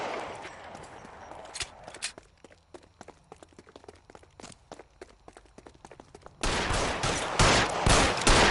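Rapid bursts of gunfire in the video game L.A. Noire, sharp cracks peppered unevenly over about six seconds, then a louder dense barrage of shots at the end.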